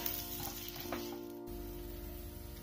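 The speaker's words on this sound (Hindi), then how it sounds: "मसाला को कम आंच पर मैंने फ्राई कर लिया है" Chili, coriander and turmeric powder masala frying on low heat for chicken curry, a steady soft sizzle with faint stirring scrapes, with no talk.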